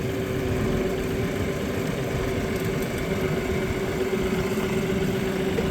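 A Kioti NS 4710 tractor engine drives across soft ground, a steady, close mechanical drone with a constant tone and no talking over it.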